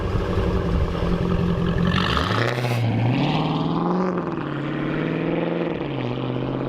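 A 2015 Dodge Challenger R/T engine roars and revs loudly as it pulls away, the deep exhaust note rising and falling as it passes close by.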